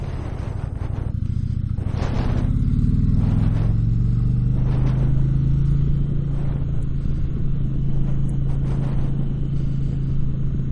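A 2020 Indian Challenger motorcycle engine revs and accelerates up close, a steady low rumble punctuated by several sharp throttle bursts.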